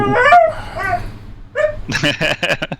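A pup gives excited high yips and whimpering barks close by, and a person starts talking partway through.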